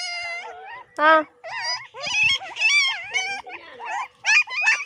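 Five puppies whimper and whine in high, wavering cries, close by, with short pauses between overlapping yelps.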